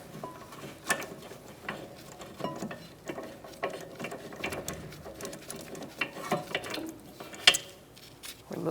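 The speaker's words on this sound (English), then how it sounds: "Make sure you have another hand on the bracket as you take this bolt out." A ratchet clicks away steadily at a rear brake caliper bracket bolt on a 2012-2018 Ford Focus, with repeated close, sharp mechanical ticks and a few louder knocks, no talking.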